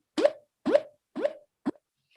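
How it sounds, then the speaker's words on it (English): Short synthesized tone pulses, each sweeping upward in pitch from about 200 to 600 hertz, sound alone in four evenly spaced bursts, the last one shorter and softer. "these pulses started at a frequency of 200 hertz and then swept up to 600 hertz"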